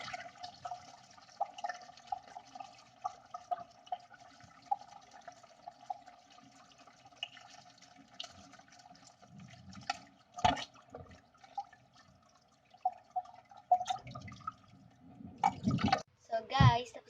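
Tap water runs steadily while dishes and plates are washed at a sink, with soft clinks and splashes throughout and a few louder clatters near the end, under a voice speaking.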